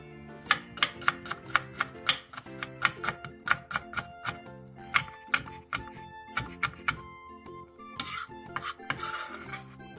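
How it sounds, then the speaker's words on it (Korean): A kitchen knife chops onion, chili peppers and green onion on a cutting board in quick, rhythmic taps, close and crisp, with a few slicing strokes near the end. "청양고추 2개를 어슷 썰고 대파 2분의 1개는 쫑쫑 썰어주세요."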